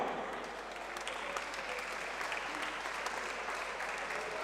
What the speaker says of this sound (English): round of applause for both fighters this evening.